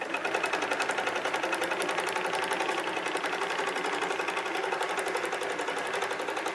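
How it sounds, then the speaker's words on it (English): A sewing machine stitches a kaleidoscope quilt design in one steady, loud, rapid needle rhythm that runs unbroken from start to finish, with no voices. "So it's going to move over here to the left, and this is where it's going to start sewing"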